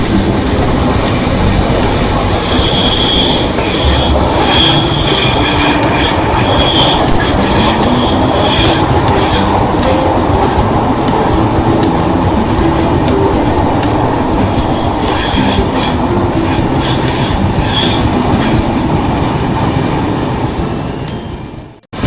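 Andhra Pradesh Express on the Visakhapatnam–New Delhi run rolls steadily along the rails, a loud continuous rumble laced with rhythmic clickety-clack of wheels over joints and occasional metallic squeal, fading slightly at the very end.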